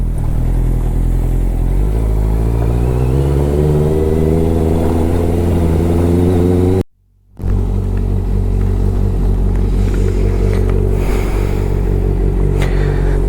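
A Honda CBR650 superbike with a loud aftermarket exhaust idles and revs while warming up on a summer morning. The engine roars steadily and close, with a brief cutout in the middle, then a steady rumble.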